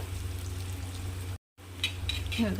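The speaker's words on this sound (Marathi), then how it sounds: "कांद्याला पण छान असं परतून घ्यायचा गोल्डन कलर येईपर्यंत" Onions sauté in a pan until golden for a bitter gourd curry, with a soft continuous frying hiss. A brief dropout breaks it midway, and a few scraping stir sounds follow.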